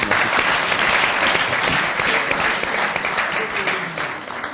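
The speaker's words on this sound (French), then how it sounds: "Est-ce qu'on peut l'applaudir s'il vous plaît, on peut l'encourager, hein?" Loud, dense applause from a show audience cheering on the artist, a full steady round of clapping that fades slightly toward the end.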